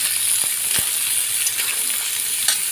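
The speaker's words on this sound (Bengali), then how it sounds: "এবার আমার যে পেঁপে আর আলু কাটা ছিল সেগুলো আমি দিয়ে দিলাম, দিয়ে ভালো করে আমি মিশিয়ে নিচ্ছি" Diced papaya and potato fry in a pan with oil, a steady close sizzle broken by a few scraping clicks of stirring, no voices.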